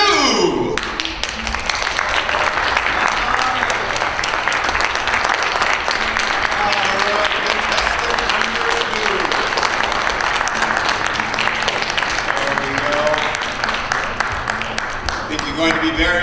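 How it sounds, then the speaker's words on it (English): A crowd at the Miss Armada 2025 beauty pageant applauds a contestant with sustained, dense clapping, while an announcer's voice and music sound beneath it. "Give her a big round of applause."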